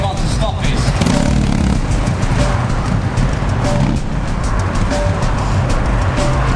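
Motorcycle engine at a motorbike stunt school during a stoppie, a steady loud engine drone with road noise filling the whole stretch while voices talk over it.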